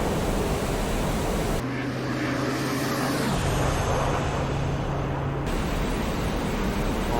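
A Me 262 jet fighter in the flight sim Il-2 Sturmovik roars with a steady broadband rush and a low engine drone, holding constant for several seconds before the tone shifts, with no talking.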